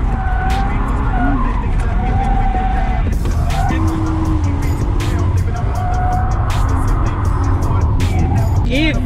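A BMW E36 drift car skids through a drift battle, its engine revving hard and its tyres squealing loudly and continuously. Excited spectators shout in German over the noise.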